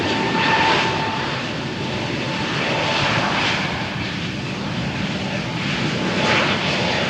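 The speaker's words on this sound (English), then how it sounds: "We say goodbye to Wizz Air flight to London Gatwick." Wizz Air jet departing Malaga Airport's runway 13 for London Gatwick on a stormy morning: a loud, steady engine roar sustained throughout, swelling slightly as it builds power, with no voices.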